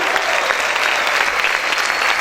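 Steady, dense applause from a church congregation, continuous clapping filling the space without any speech.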